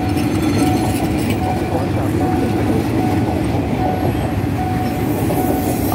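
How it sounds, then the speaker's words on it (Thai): Thai railway train 145 from Bangkok to Ubon Ratchathani passes close by as another train runs the opposite way, with a loud steady rumble of wheels and carriages lasting throughout. "สวนกับขบวนอะไรเอ่ย"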